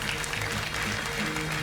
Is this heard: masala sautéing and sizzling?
no